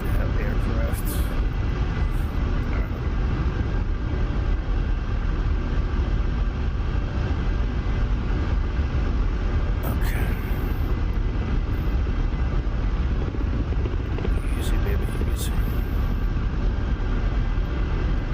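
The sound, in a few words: Ka-50 helicopter flying in DCS video game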